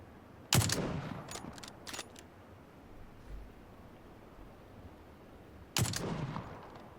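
Gunshots in the video game PUBG, two loud sharp reports several seconds apart with echoing tails, a few fainter pops between them, all over quiet background hiss.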